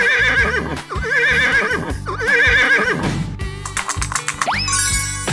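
In a 3D animal slide video game, a horse whinnies in repeated wavering calls over loud, busy game music with a regular beat, then a rising springy boing and bright chimes.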